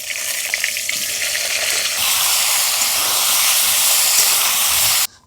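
Raw jackfruit fries in hot oil with a steady, loud, dense sizzle and hiss that continues close-up and unbroken until it cuts off abruptly.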